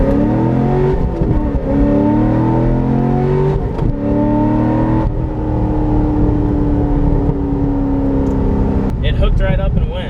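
A C6 Corvette Z06 engine pulls hard through first gear, a loud, close roar with rising harmonics climbing steadily over several seconds before a shift or lift near the end, constant and dominant throughout.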